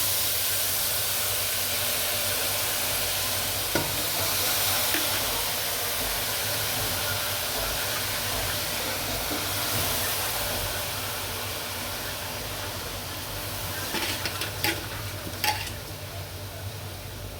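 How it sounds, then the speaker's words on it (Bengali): Fish frying in a pan, a continuous steady sizzle of hot oil with a few sharp crackles and pops near the end, close and moderately loud. "মাছটি একটু ভাজা হয়ে গেছে"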